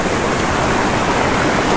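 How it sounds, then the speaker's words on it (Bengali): Heavy rain near a waterfall in Dudhia, near Siliguri in North Bengal, forms a loud, dense, unbroken roar of rushing water with no voices on top. "হ্যাঁ বৃষ্টিটা ভালো জোরে স্টার্ট হয়ে গেল।"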